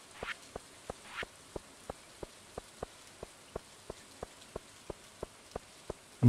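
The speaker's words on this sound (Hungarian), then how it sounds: "elültetjük gyorsan, míg még esik a eső" Rain falls in the farming game Stardew Valley, with evenly spaced soft ticking drops landing in a steady rhythm over a quiet background, plus a couple of brief brighter splashes near the start.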